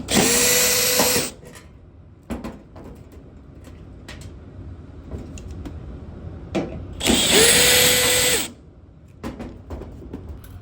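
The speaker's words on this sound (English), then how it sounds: "Next, we're going to take out these 2 Phillips screws." A power drill removes two Phillips screws from a top load dryer during cleaning: two loud whirring bursts, each with a rising motor pitch, separated by quieter handling noises.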